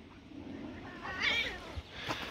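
Cats fighting in a backyard, a short strained yowl rising and falling for a couple of seconds, moderately close, with no talk.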